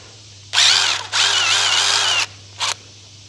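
A power drill bores a 1/4 inch hole with a sharp, high whine. Two sustained bursts run close together, then a brief final squeeze of the trigger follows, with a low steady hum underneath.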